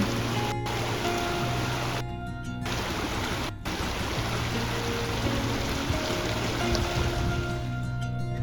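A mountain valley stream flows beside a reinforced-concrete house in Jecheon, a constant close rushing wash of water that fills the whole stretch with little change.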